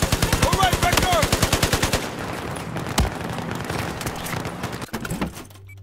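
Rapid machine gun fire in the video game Battlefield 4: a tight, loud burst of evenly spaced shots for about two seconds, then scattered clanks and a single sharp bang over softer game noise.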